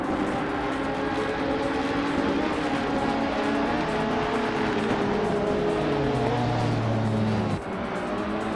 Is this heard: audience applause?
no